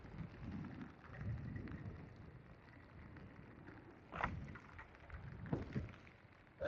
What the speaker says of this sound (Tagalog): parang lumakas na yung ulan guys ah